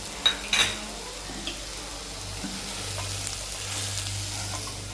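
Vegetables with homemade chili chutney being stirred and sautéed in a pan: a couple of metallic spatula knocks at the start, then a steady close sizzle with occasional scraping.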